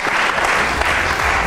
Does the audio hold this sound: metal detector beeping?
no